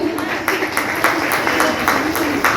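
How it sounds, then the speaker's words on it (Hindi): Applause for guests at a school event in Delhi: scattered hand claps patter steadily for a few seconds, a moderate crowd clapping fairly close without talk. "सभी गणमान्य अतिथियों का माला जैसी परिवार हमारी आए हुए एक बार जोरदार तालियों के साथ इनका स्वागत करें।"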